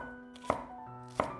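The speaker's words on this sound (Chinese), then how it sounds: "斜刀切成段儿" A knife cuts half a green onion stalk on the bias into segments, two sharp isolated chops landing on a cutting board, each a crisp thud against a faint steady background hum.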